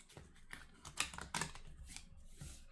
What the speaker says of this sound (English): Shuffle the individual stacks of card suits face down.